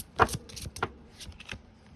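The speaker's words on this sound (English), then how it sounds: "But I've shuffled this deck" A deck of tarot cards is shuffled by hand in a handful of quick riffling bursts, close and fairly quiet, with short pauses between them and no talking.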